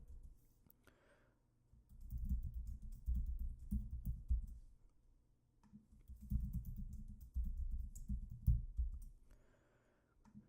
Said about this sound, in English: So I'm going to type this in.